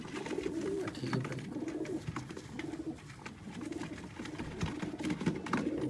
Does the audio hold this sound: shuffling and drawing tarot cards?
no